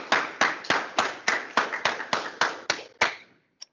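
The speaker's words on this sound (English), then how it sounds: "I'm going to give them one last round of applause." About a dozen sharp, evenly spaced hand claps ring out in a steady rhythm after a presentation, with a final lone clap after a short pause.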